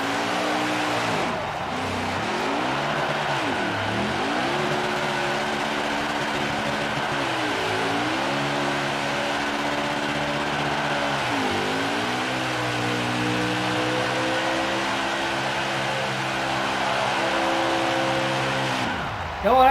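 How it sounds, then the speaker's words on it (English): A NASCAR stock car does a victory burnout in the video game NASCAR Heat 5, its engine droning loud and steady with repeated revving swells and dips throughout, alone without talk. "And a little victory burnout in front of the hometown crowd."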